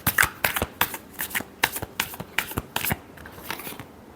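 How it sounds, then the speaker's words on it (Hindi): Tarot cards being shuffled by hand in quick, regular riffling bursts, about ten sharp flicks at a steady pace that trail off softer toward the end, close up and alone. "last shuffle"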